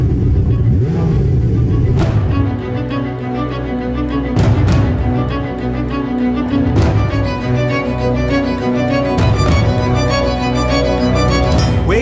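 A Ferrari 488 Pista's engine revving hard, loud repeated surges of high-pitched wailing revs with sharp gear-change breaks between bursts, filling the whole stretch.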